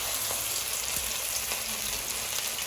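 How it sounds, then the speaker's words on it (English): Peshawari-style chicken chapli kebab frying in oil with green chilies and tomato, a soft continuous sizzle at moderate distance, steady throughout with no talking. "And I'm going to put it in the oil."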